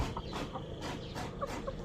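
Several short clucks from chickens, close and fairly soft, over a steady background of farmyard noise.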